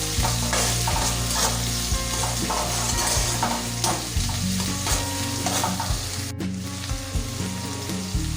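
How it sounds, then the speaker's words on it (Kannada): Onions frying with okra in a pan, a steady close sizzle with repeated spatula scraping and stirring strokes, loud and continuous, while a steady low hum runs underneath and no one speaks. "ಈರುಳ್ಳಿ ಹಾಕಿದ ನಂತರ ಫ್ರೈ ಮಾಡ್ಕೊಳ್ಳೋಣ"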